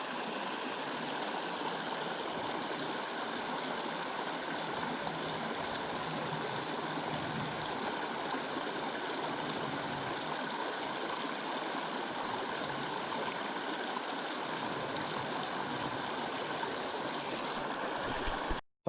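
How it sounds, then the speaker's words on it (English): A creek flows beside a primitive campground in the Eastern Sierra, a close, steady rushing babble of water that continues unbroken for nearly twenty seconds. "Right by the creek."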